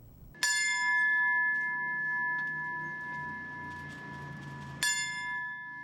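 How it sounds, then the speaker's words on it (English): A fire department bell rings out at a September 11 memorial ceremony in Los Angeles, two loud clear strikes several seconds apart, each leaving a long, steady ringing tone that slowly fades. "LA Mayor Eric Garcetti rings the city fire department's bell 10 times, a ceremony to remember the lives lost on September 11th, 2001"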